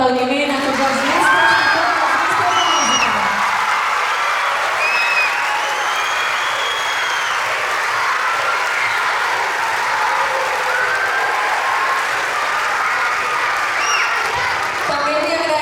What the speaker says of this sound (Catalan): Per tots ells també un fort aplaudiment a tots els mestres.